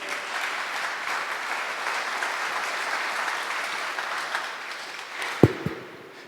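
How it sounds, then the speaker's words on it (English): A crowd at a community violence prevention meeting applauds the Chief of Police, a broad, even wash of clapping that fades before a couple of sharp knocks close by. "Let's give the Chief a big round of applause"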